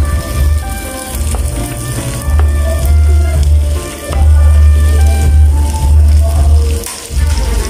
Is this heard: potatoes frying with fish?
yes